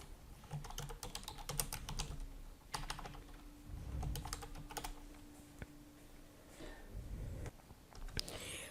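Someone types on a computer keyboard at a desk, quick bursts of soft close key clicks broken by short pauses, with a few louder taps and faint background hum.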